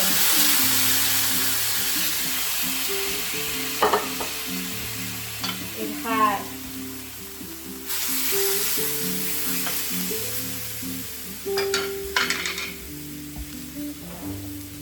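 Refrito sizzles and fries steadily in a stainless steel pan for a seafood paella, a continuous hiss with intermittent stirring scrapes and clinks, close and fairly loud.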